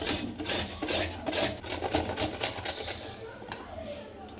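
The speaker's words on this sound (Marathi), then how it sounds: "आता आपण जी हळकुंड आहे ते येथे आता आपण किसणीने किसून घेणार आहोत" Fresh turmeric root is rubbed over a hand grater in quick, repeated close scraping strokes, fairly quiet and rhythmic, for a turmeric pickle.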